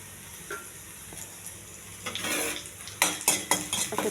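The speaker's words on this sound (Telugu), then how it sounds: "కొంచెం దోరగా వేగాలండి కరివేపాకు." Curry leaves fry in a little oil for the tempering of a tomato and roasted-gram chutney. Quiet at first, then sharp sizzling bursts and a few spoon clinks against the pan.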